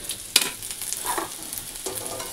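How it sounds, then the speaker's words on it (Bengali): Lentils with vegetables being tempered in a hot pan, with a steady sizzle, a sharp stirring clank near the start and another stir later, close and moderately loud. "এখানে ডালের মধ্যে সবজি দিয়ে ডালটা ফোড়ন দিয়ে নিব"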